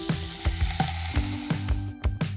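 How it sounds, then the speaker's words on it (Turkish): Soda poured into a bowl fizzes with a steady crackling sizzle, broken by a quick run of soft, rhythmic knocks and bubbling bursts, all close by with no voices. "Bir kaseyi gazozla doldur."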